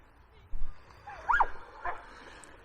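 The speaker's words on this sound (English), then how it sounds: "Barking dog down there." A dog barks in the distance near coastal sand dunes, a few faint, short yips and barks spaced over a couple of seconds against quiet outdoor ambience.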